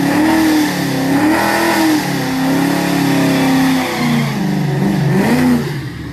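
A Mustang with a Vortech supercharger revs at a race track, loud and close. The engine holds a steady high roar with the pitch wavering up and down, then dips and rises again before easing off.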